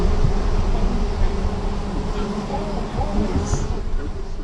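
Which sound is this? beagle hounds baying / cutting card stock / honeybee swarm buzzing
honeybee swarm buzzing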